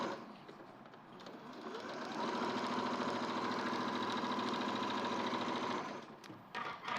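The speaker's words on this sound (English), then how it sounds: "So I'm sewing down that length now." A sewing machine stitching a long seam builds from a soft start into a steady, continuous mechanical hum for several seconds, close and clear, then stops with a few faint handling sounds.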